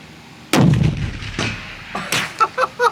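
A single powerful .338 Lapua Magnum sniper rifle shot booms at an outdoor shooting range in Monterrey, followed by a decaying echo and a few faint clicks.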